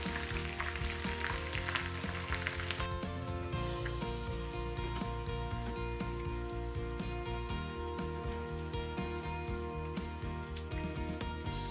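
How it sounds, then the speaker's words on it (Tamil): Omapodi, a crunchy gram-flour snack, frying in hot oil with a steady dense sizzle and bubbling; a soft harsher burst opens the first few seconds, then a continuous close crackle with faint rhythmic tapping underneath. "இந்த ஓமப்பொடி நல்லா முறுமுரண்டு பொரிஞ்சிட்டுது"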